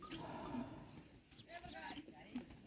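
Quiet, distant lowing of a cow with an eye ailment, a couple of short moos amid outdoor background noise and faint voices.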